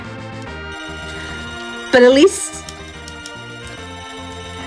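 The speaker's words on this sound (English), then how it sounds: "apologies for the noise that this poison sound is making" A harsh, ringing poison status chime from Final Fantasy IV repeats over game music, with a loud burst near the middle, while a voice talks over it.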